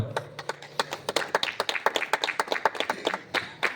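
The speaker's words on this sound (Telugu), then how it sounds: "చప్పట్లు స్వామి" An audience at a state-level bhajan competition prize ceremony claps, with sharp, rapid claps from a modest crowd, close and continuous for several seconds.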